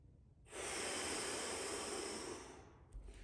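One long, forceful exhale during a core breathing exercise, a close, airy rush of breath pushed out for about two seconds before it tapers off, followed by quiet.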